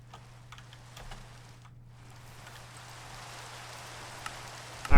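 Rain in Minecraft with the Enigmatica 2 modpack, a faint, even patter and hiss over a low steady hum, continuing evenly until a sudden brief noise at the very end.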